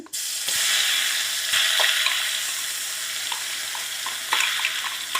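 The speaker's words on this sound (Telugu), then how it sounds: "ఉల్లిపాయల పేస్ట్ పచ్చి వాసన పోయే అంతవరకు వేయించుకోవాలి" Onion paste fries in hot oil in a pan while an egg pickle is being made, a loud continuous sizzle with occasional stirring scrapes and clinks close by.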